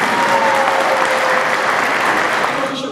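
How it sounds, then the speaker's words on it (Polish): Audience applause for a cabaret troupe at a comedy cabaret competition, a dense steady wash of clapping that fills the whole stretch and fades slightly at the end, with no talk over it. "Wielkie brawa dla nich."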